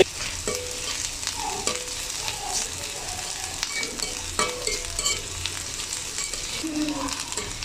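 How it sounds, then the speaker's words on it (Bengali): Whole cumin, onion and green chili frying in a little oil, a steady close sizzle broken by occasional stirring scrapes and clinks of a utensil against the pan. "আমি এটা কম তেলে ভেজে নেব।"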